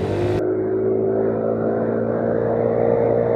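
A motorcycle rides fast at around 70 km per hour, its engine a steady, loud drone mixed with rushing wind buffeting the camera microphone, the high hiss cutting out abruptly early on while the engine hum continues.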